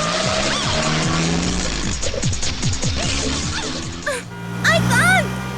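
A car chase in an action movie brings repeated revving engines and squealing, skidding tires, with a crash-like thud near the end. Shouted voices and a dramatic score sound over it.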